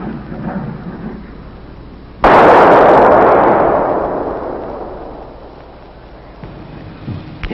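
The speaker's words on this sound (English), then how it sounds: "One of the bombs from the airstrike exploding in the trees overhead." Airstrike bombs, including 500-pound bombs, burst in the trees overhead: one sudden huge blast erupts and rumbles away over several seconds, with no voices.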